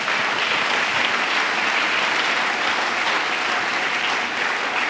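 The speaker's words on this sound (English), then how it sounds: "Let's clap for Jesus." A church congregation claps together in steady, dense applause that fills the room, loud and sustained throughout with no speech over it.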